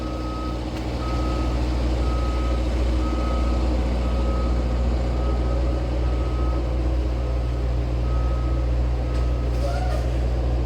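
A large vehicle idles and rumbles nearby while its reversing alarm sounds a steady run of evenly spaced beeps, with a heavy low engine drone underneath throughout.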